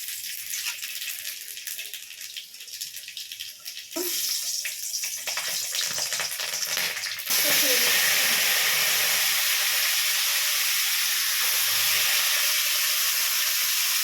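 Nigella seeds hit hot oil with a little ghee for a small-fish chorchori, giving a steady close hiss and sizzle that grows louder in two sudden steps. No one speaks.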